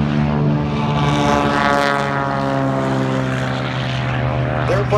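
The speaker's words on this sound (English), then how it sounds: "Airplane taking off right now is a Beechcraft built by Walter, designed by Walter Beech" A Beechcraft propeller trainer airplane takes off, a loud, steady, droning engine roar with a strong propeller hum that holds throughout, close by and without pause.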